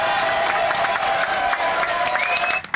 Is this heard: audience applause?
yes